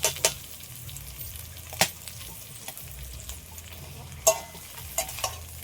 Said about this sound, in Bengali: সবগুলো একসাথে ভালো করে এইভাবে মিশিয়ে নেব।